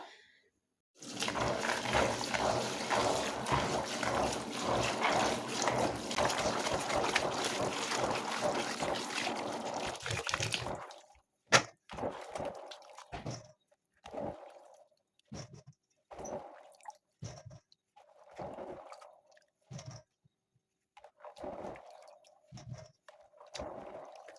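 Corn kernels, about 1.2 kilograms with their silk still mixed in, are swished and rinsed in water for about ten seconds with a steady close splashing rush, then scattered drips and light clinks follow.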